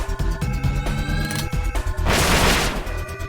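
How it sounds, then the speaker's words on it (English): Magical gunfire attack in the Spellbroken video game, a loud rapid burst of crackling shots and a heavy noisy blast layered over a busy game music background. "She attacks again with a bunch of magical gunfire."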